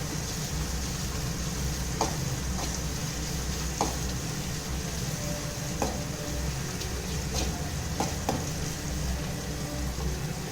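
Tomatoes sautéing in a pan for a drumstick poriyal, a steady moderate sizzle throughout with occasional sharp spatula clicks and scrapes spread across the stretch.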